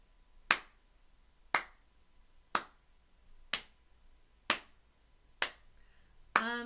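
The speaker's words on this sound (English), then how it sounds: "can we clap our hands for this one?" Hands clapping in a kids' singalong music class, seven sharp single claps spaced about a second apart, close and crisp in a quiet room, with a voice starting at the very end.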